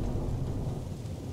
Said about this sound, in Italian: In Inghilterra la chiamiamo pioggia.